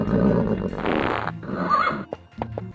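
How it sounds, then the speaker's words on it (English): A unicorn-type Digimon from the PS1 game Digimon World gives a loud, fairly close horse-like neigh, a series of whinnying bursts and snorts lasting the whole moment, with no talking over it. "He made a horsey noise and all."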